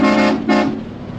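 A truck air horn blasts twice in quick succession, loud and close, with a short gap between the two honks and a brief tail of traffic noise after.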